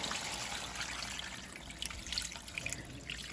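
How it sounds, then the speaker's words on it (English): Beef broth poured into a pot of oxtails and dry peppers for birria-style soup, a steady close splashing, trickling stream lasting a few seconds with no talk. "And your beef broth."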